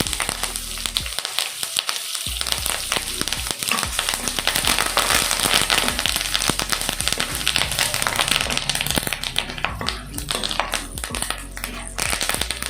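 Curry leaves crackle and sizzle in hot oil while a Karthigai aval pori snack is prepared. Dense popping and spattering run loud and unbroken throughout.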